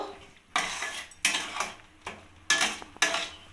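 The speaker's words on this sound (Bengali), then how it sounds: "এইভাবে নেড়ে যেতে হবে, নাহলে পুড়ে যেতে পারে মশলাটা।" A spoon scrapes through a spice masala with nuts in a pan for dhaba-style matar paneer. Five or six sharp, rhythmic scraping strokes sound close, each trailing off before the next, with no talking.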